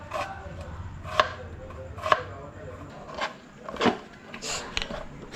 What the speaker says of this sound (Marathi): तर कांदा कट झालेले